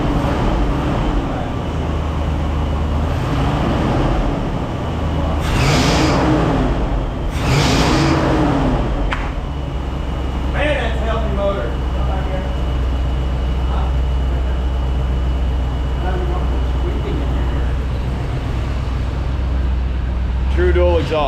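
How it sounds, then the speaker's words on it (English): A 1966 Ford Thunderbird engine with true dual exhaust, running rich, rumbles steadily at idle with a deep exhaust drone, while people talk nearby over it. "It's running richer than Oprah. My eyeballs are burning."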